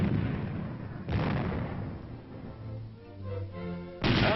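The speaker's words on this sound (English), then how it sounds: "When you fire them, you can see a reddish glow marking the shot." A tank main gun fires armor-piercing tracer rounds: two heavy, booming blasts about three seconds apart, each followed by a rolling, rumbling decay.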